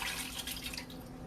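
Chicken broth pours into a pan, a soft continuous liquid trickle and splash, faint and brief.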